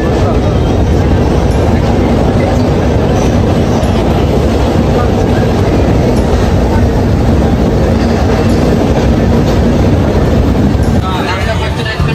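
A passenger train rolls into Agra Fort railway station in India with a loud, steady rumble and wheel clatter that holds throughout, easing slightly at the very end.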